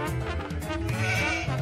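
A sheep bleats over a cluttered, continuous background, wavering and fairly loud throughout the short moment.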